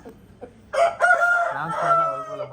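A rooster crows loudly and close, one long drawn-out call with a rising then sustained tone, following a few faint clucks.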